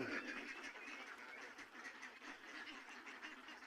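Ducks quack repeatedly in a busy overlapping chorus, fairly faint and distant, with no pauses between calls.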